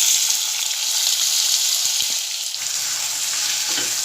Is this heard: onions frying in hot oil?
yes